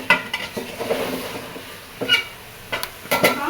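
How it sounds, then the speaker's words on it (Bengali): Goat head meat is stirred in a cooking pot, with intermittent scraping and clattering bursts of the utensil against the pot over a faint, steady sizzle. "মাংস রান্না করছি আসলে খাসি মাংস না এটা খাসি মাথা খাসি মাংসের মাথা রান্না করছি"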